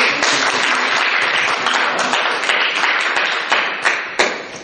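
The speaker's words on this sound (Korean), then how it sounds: "주님 앞에 감사의 박수." Congregation applause during an evening church service after a prayer: loud, dense clapping from a crowd with some sharper individual claps standing out as it gradually thins toward the end.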